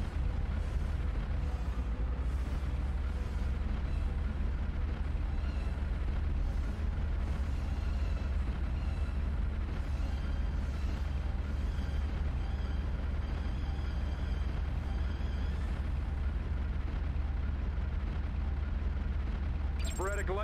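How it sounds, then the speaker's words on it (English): Distant explosions and gunfire from a firefight in the video game Heavy Gear 2 rumble beneath a constant low-frequency drone, with dense bursts and booms running steadily throughout and a voice speaking over them. "Lights and explosions to the north. Looks like a firefight."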